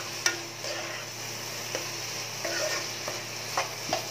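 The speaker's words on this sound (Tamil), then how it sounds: "நல்லா கிளறி விடுங்க." Fried soy chunks for a meatless mutton sukka are stirred in a pan, with a few sparse scrapes and taps of the spoon over a steady low sizzle, close and moderately quiet, no speech.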